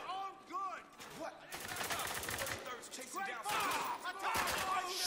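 Rapid bursts of automatic gunfire in the Spec Ops: The Line shooter, dense crackling volleys mixed with shouted voices and combat chatter throughout.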